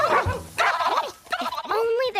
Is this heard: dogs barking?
yes